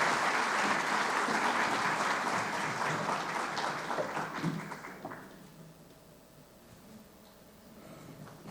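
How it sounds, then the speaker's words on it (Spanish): A seated crowd at a justice panel session claps warmly for a souvenir group photo; the applause is full at first, thins and dies away after about five seconds, leaving a quiet room. "Brindamos nuevamente un fuerte aplauso para la toma de la fotografía del recuerdo."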